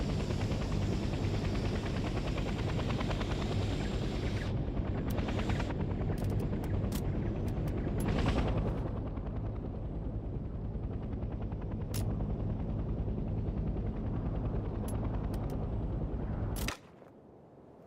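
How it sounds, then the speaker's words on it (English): Transport helicopter in the Vietnam-era combat game Hell Let Loose: Vietnam, a steady loud rotor and engine drone that runs for most of the stretch with sharp clicks scattered through it, then cuts off abruptly near the end. "The transport helicopter is used primarily to transport squads quickly across the battlefield."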